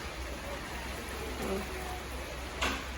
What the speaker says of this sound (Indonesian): iki gerimis ya